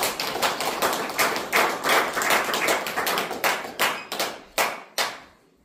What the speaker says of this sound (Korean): 박수로 행해 주시기 바랍니다.